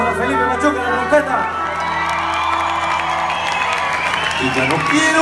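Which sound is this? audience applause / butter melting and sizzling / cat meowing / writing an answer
audience applause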